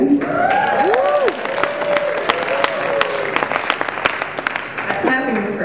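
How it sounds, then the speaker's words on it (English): A conference audience bursts into sustained applause with scattered cheers and voices mixed in, fading as the clapping thins toward the end. "That clapping is for SSDP,"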